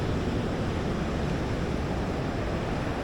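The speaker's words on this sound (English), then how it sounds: "hearing the sound of the ocean behind me" Ocean waves wash onto a beach in Brazil just after sunset, a steady, dense roar of surf with a light breeze and no voices.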